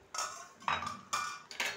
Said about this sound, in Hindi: खोल के हम देखते हैं कढ़ाई को